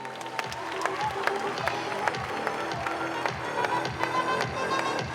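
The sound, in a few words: audience applause at award ceremony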